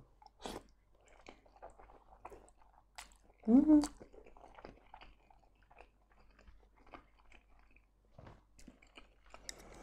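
Soft, wet chewing and slurping of jajangmyeon, Korean black bean noodles, close to the microphone in quiet, sparse bites with one louder slurp near the start.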